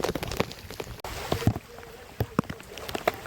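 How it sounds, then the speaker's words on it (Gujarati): Rain and floodwater run knee-deep through a village street, a steady wet wash broken by splashes and drips, close by and moderately loud, with no voices. "આ શેરી તો ફૂલ પાણી આવે છે અત્યારે"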